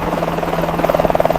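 Helicopter rotor descending close over a rooftop pool, a steady pulsing thump with a continuous low drone, loud and near throughout without speech.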